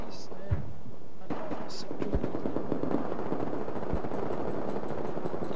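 Gunfire in the video game Battlefield 4 during a Flood Zone team deathmatch, a few scattered sharp shots over a busy, rumbling game soundscape, moderately loud with a faint background murmur.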